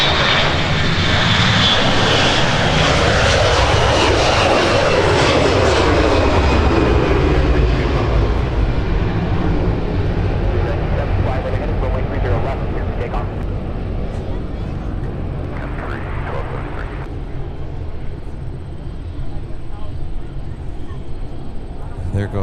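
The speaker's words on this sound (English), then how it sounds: "There goes that aforementioned flight to San Diego" An airliner departs Minneapolis-St. Paul airport for San Diego, its jet engines a loud sustained roar that slowly fades as it climbs away, with commentators talking over it.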